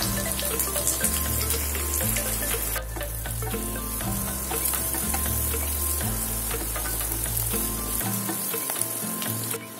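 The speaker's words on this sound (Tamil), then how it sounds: "இப்போது நறுக்கி வச்சுருக்கிற 4 வெங்காயத்தை சேர்த்துக்கிறேன்." Steady loud sizzling of four chopped onions frying in hot oil, continuous throughout with occasional stirring scrapes and no talking.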